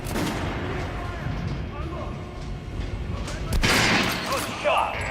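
Gunfire at an armored training dummy in the video game Metro Last Light, several shots with dull impacts ringing out over a low rumbling background, the loudest burst near the end.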